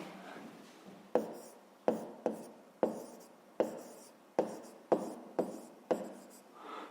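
A pen writes an answer on paper in short repeated strokes, about nine distinct scratches with sharp onsets and quick decays, close and fairly clear with no talk over them.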